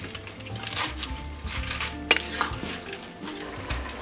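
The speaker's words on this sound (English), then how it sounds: "And mix it well together and let it simmer for another 5 minutes." Chickpeas and spinach stirred in a simmering pot, with soft scraping and clinks of a utensil against the pot and one sharper knock near the middle, close and moderately quiet with no talking.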